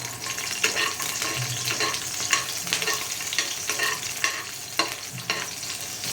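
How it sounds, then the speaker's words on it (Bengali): Nigella seeds and eight slit green chillies frying in oil, an even close sizzle with light crackling pops and occasional stirring scrapes, no talking. "এরপর আমি ওই তেলে দিয়ে দেব কালো জিরে, আর দেব 8টা চেরা কাঁচা লঙ্কা"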